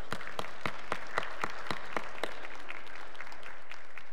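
A Sunday worship congregation claps for this year's graduates, a handful of sharp, fairly evenly spaced claps that stand out clearly, then trail off into a quiet room.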